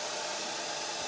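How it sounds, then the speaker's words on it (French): Hair dryer blowing over a watercolour portrait to dry the paint, a steady, close, hissing whoosh that stays constant for the whole moment. "je vais redonner un coup de sèche-cheveux rapide"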